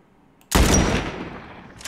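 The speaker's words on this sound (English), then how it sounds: "What are you shooting at?" A single loud gunshot in The Last of Us, a PC remastered video game, cracks sharply and close, then rings out in a decaying echo over the next second.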